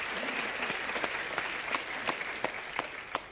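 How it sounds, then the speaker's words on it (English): A studio audience at a televised talk-show debate applauds steadily for a few seconds, a dense wash of hand claps with a few sharper individual claps standing out, with no voices over it. "You can applaud if you wish"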